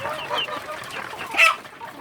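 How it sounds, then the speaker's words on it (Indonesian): Small free-range village chicks chirping and clucking close by, soft overlapping peeps with a brighter burst near the end, no talking. "anak ayam kampung masih kecil seperti ini"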